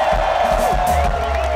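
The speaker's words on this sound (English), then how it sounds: "Give yourselves a round of applause right now." Concert crowd at a show cheering loudly, a brief dense roar of shouts and whoops close up that holds steady throughout.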